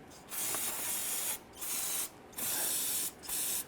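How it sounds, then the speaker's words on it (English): Aerosol solvent sprayed onto engine connections during harmonic balancer work on a 1999-2004 Jeep Grand Cherokee 4.7L V8, four close hissing bursts separated by brief pauses, no talking. "go ahead and use some spray solvent"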